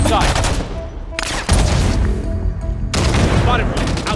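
Halo 5 Guardians multiplayer gunfire, loud rapid bursts of automatic weapon fire with booming impacts, broken by short gaps, with voices heard in the game mix.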